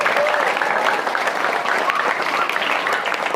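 Audience clapping steadily and evenly throughout at an Indonesian religious talk, a dense even patter of many hands with no voices over it.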